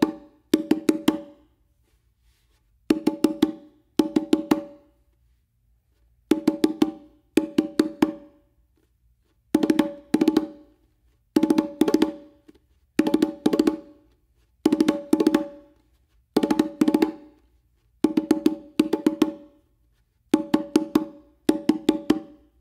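Four open tones on the hembra, the larger drum of a bongo pair, are played twice per phrase, giving crisp, resonant hand strikes in repeated clusters with short pauses between them, close up and with no voices.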